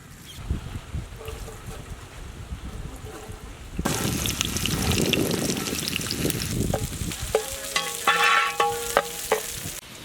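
Chopped onion drops into hot vegetable oil in a pan and starts a sudden loud sizzle that keeps crackling steadily, with a few clinks of a utensil against the pan near the end.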